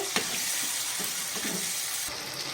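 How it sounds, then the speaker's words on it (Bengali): Fried chicken is stirred in a hot pan with soy, chili and tomato sauces, giving a steady, close sizzling hiss broken by a few soft scraping strokes, with no talking. "ভালো করে আবার নাড়াচাড়া করে নেব।"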